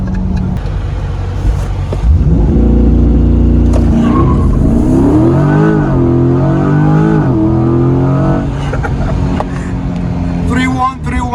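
A 2021 Chevrolet C8 Corvette pulls hard at high speed, its engine note sweeping upward in rising harmonics as it revs through the gears, loud and close from inside the cabin with voices talking over it.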